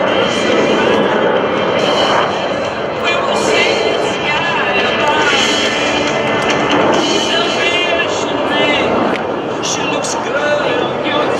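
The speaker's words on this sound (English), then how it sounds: "This time to demonstrate the inverted flight capabilities of these FA-18s." US Navy Blue Angels F/A-18 jets roar overhead during an inverted flight demonstration at a 2012 military open house, a loud continuous engine rumble with rising and falling whine, under an announcer's voice over loudspeakers.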